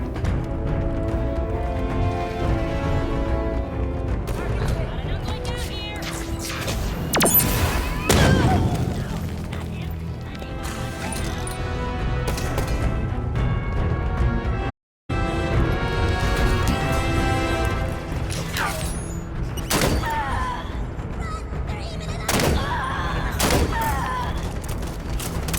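Gunfire and explosions from Halo 5 gameplay: repeated bursts of weapon shots and booming blasts over a continuous bed of game music and effects, loud and dense throughout with a brief dropout midway.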